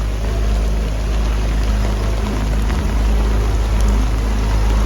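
Torrential rain pours down on a boat at sea, a dense, loud, unbroken hiss with a deep low rumble beneath it throughout, and no voices.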